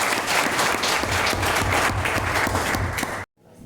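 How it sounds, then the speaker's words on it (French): Dense audience applause fills the air, many hands clapping steadily and loudly from a sizeable crowd before cutting off abruptly near the end. "On applaudit parce qu'il est présent."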